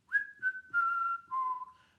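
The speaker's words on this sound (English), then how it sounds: "including whistling" A chamber choir singer whistles a short descending melody of four clear, sustained notes, close and alone.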